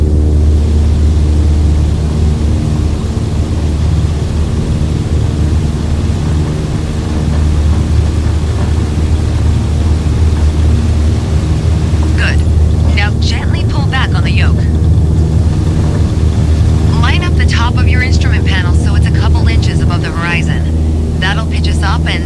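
A Cessna 152 engine in Microsoft Flight Simulator 2020 drones steadily at full takeoff power on the runway roll, a loud constant hum, while a person talks over it in stretches.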